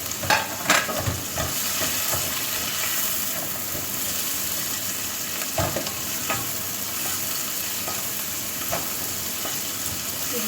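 Prawns sizzle and fry steadily in a hot pan, a dense continuous crackle with a few louder pops and stirring scrapes near the start and midway.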